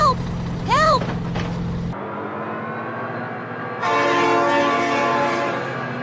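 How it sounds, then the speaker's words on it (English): A train horn blares as a locomotive approaches in the BeamNG.drive driving game, loud and sustained with layered tones, while a voice cries out over the start. "Oh my god, train!"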